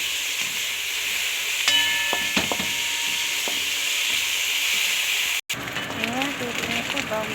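Chopsuey ingredients browning in a hot pan give off a loud continuous sizzle with a few sharp clinks of utensils against the pan. A brief cut is followed by softer spattering.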